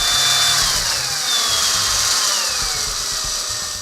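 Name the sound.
power tool bolting down rear link mounts on rock buggy axle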